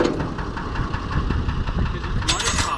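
A modified Fordson Major tractor with a Perkins straight-six engine runs at a steady, throbbing idle close by, loud and continuous while a person talks over it.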